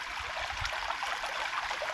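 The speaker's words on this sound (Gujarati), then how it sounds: "ત્યાં પાણી જાય છે જોઈ લ્યો" Irrigation water flows along a channel through a soybean field, a steady, moderately soft rushing and trickling that continues without a break.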